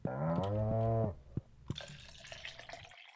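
Cow mooing in the farming game Stardew Valley, one loud, long low moo up close, followed by soft clicks and a brief watery gurgle of game effects.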